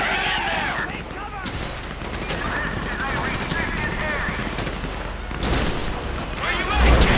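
Gunfire rattles through a GTA V video game firefight, dense bursts and scattered shots running continuously and loudly under shouting voices and game noise.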